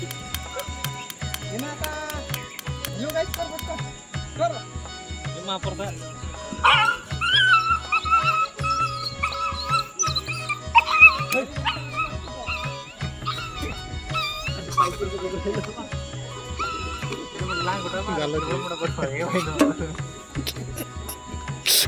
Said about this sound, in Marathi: कुत्र्याला गोटा मारला. कुत्री तिथं कावळून राहिले.